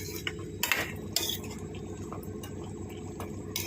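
A spoon clinks and scrapes against a pot while stirring a curry of drumsticks, tomato and carrot. Several distinct metallic taps are spaced irregularly over a steady low simmering background, close by, with no voices.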